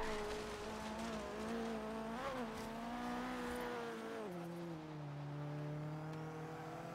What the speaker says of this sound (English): You can actually hear the turbo better in Horizon 3, I think.